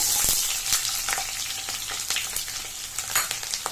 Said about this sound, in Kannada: ಈಗ ನಾನು ಕಟ್ ಮಾಡಿ ಇಟ್ಕೊಂಡ್ರೆ 1 ಮೀಡಿಯಂ ಸೈಜ್ ಈರುಳ್ಳಿನ ಹಾಕೋತಾ ಇದ್ದೀನಿ